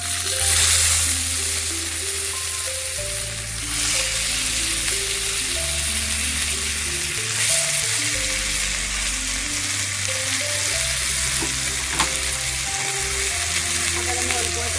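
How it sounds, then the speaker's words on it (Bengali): Chicken pieces for tawa tandoori chicken fry in ghee, a loud, constant close sizzle with occasional stirring, no voices over it. "এবার চিকেনগুলোকে আবার দিয়ে দেবো।"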